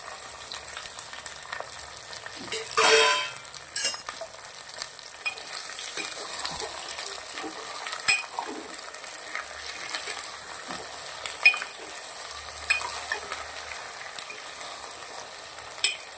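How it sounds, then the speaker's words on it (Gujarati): Capsicum, cabbage, peas, carrot and pointed gourd fry in hot oil in a pan, giving a steady sizzle with occasional stirring scrapes and a brief louder burst early on. No one speaks. "શાકભાજીને 5 મિનિટ સુધી તેલના અંદર શેકાવા દેશું।"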